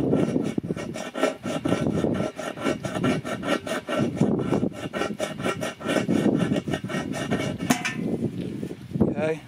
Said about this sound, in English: Try and scrape it off slowly.